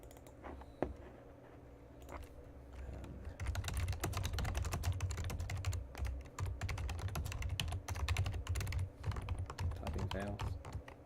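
Rapid, steady keystrokes clatter on a computer keyboard, starting faintly and then continuing as dense, continuous typing with a low background hum and faint talk.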